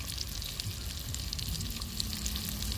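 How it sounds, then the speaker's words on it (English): Palomino trout frying in a pan, a steady close sizzle with a soft crackling hiss throughout, no voices. "got the trout cooking nice and sizzly."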